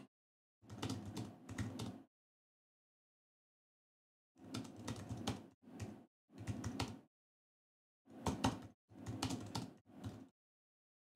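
Fingers type notes on a computer keyboard in three separate bursts of rapid key clicks with silent pauses between, close and clear with no talking.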